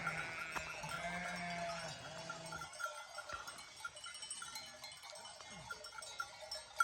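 Sheep with bells grazing on a Carpathian mountain pasture near Kosmach: soft, distant bleats and scattered clinking of bells over a quiet outdoor background, with no talking.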